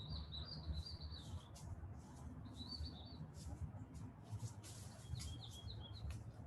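Birds chirp and trill in short, high bursts that repeat at intervals over a soft, steady outdoor hiss in Miami, faint and fairly distant, with no voices.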